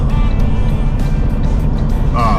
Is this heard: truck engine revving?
yes